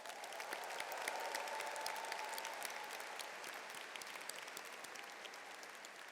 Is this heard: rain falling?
no